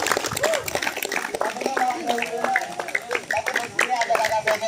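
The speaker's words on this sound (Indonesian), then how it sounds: "Saya tepuk tangan buat kita semuanya." A group on a safari trek outing at Taman Safari Bogor claps hands, scattered close claps ringing out among lively voices and chatter, the clapping uneven and partly under the talk.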